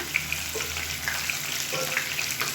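Garlic cloves and shallots sauté in oil for a village-style kuzhambu, a steady close sizzle with a few light stirring scrapes and soft pops, no voices.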